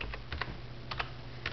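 Computer keyboard typing, a few quick clustered keystrokes then a pause and another short burst, close and fairly quiet over a low background hum.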